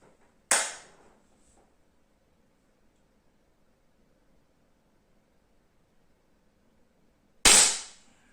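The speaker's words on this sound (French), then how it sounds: "Faire un tir à 7 mètres." Two sharp, loud pistol shots from a cheap handgun costing under 90 euros, fired at a 7-metre target, come about seven seconds apart, each a crisp crack with a short decay over quiet background.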